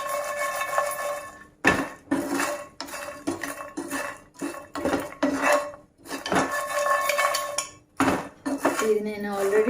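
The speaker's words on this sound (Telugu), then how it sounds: "ఇలా మైల్డ్గా కలుపుకుంటూ ఫ్రై చేసుకోవాలి." Phool makhana frying in a pan as a metal spoon stirs and scrapes it, sharp clinks and rattles in uneven bursts with short pauses, close and fairly loud.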